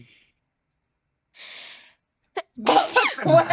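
A single sharp sneeze bursts out after a quiet pause, followed right away by a person speaking.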